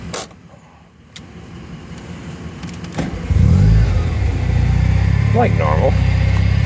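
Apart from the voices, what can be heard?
supercharged rotary engine car starting, revving and idling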